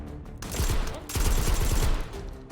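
Rapid shotgun fire in the video game Hot Dogs, Horseshoes & Hand Grenades: two loud bursts of fast, repeated shots separated by a short pause.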